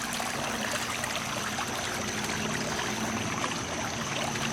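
Water flows steadily in a backyard swimming pool at the end of the season, a continuous close trickling and splashing wash that stays even throughout with no voices.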